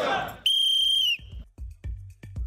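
At a Gendarmerie Nationale training school, a single sharp, high whistle blast sounds for about a second as a signal. Several short, dull thuds and knocks follow in an indoor room.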